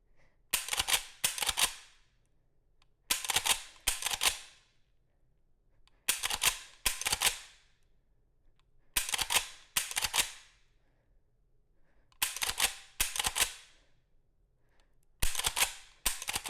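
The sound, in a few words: lever action rifle dry fire, working lever and trigger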